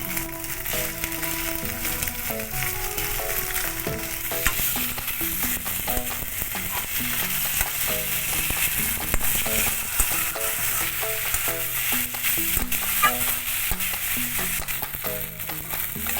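Prawns and potatoes fry together in oil with a continuous close sizzle and frequent stirring scrapes, while faint music plays in the background.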